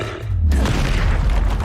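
A Confringo fire blast spell detonates in the Hogwarts Legacy video game, a loud, deep booming explosion that swells after a brief lead-in and rumbles on to the end.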